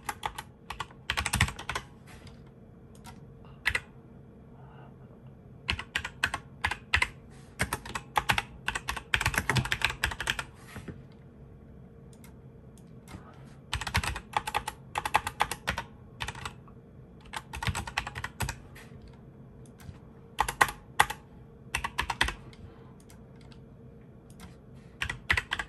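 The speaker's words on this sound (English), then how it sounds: "let me type it in" Rapid bursts of typing on a computer keyboard while placing an online order, close and clear, with short pauses between flurries of keystrokes and no talking.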